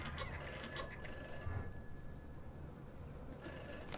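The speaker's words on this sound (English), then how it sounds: "Someone answer the phone." An old-style telephone bell rings in the horror video game Summer of '58, two bursts of bright metallic ringing at the start and end over a low, murky ambient background, no voices.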